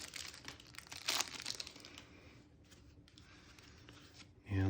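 A thin plastic wrapper is peeled off a deck of playing cards, producing quiet close crinkling and crackling bursts, with a louder rustle near the end.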